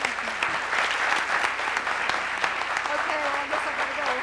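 Audience at a lecture hall event applauding after a talk, sustained mixed clapping with a voice speaking over it near the end.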